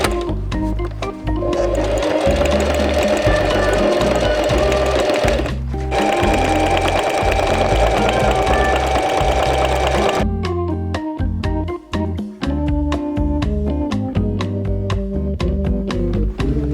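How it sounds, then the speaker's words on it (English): A sewing machine stitches along the edges of a cut tarp, loud and close, its rapid mechanical chatter running in long bursts with brief pauses between passes. "To make it more stable and to give it a finished look, we will sew the edges."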